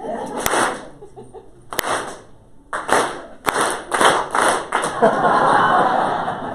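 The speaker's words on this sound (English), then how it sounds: "Anytime my hands get to this point, I want you to clap." A conference audience claps on a leader's cue: a few sharp, scattered single claps separated by pauses and talk, then a burst of loud, sustained group clapping near the end.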